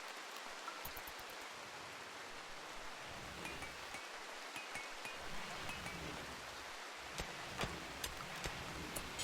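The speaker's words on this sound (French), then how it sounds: "On va les foutre à l'abri. Vu qu'il pleut." Steady rain in the colony-building game RimWorld, a soft continuous hiss of drops with scattered patters and ticks, moderately faint and unbroken with no voices over it.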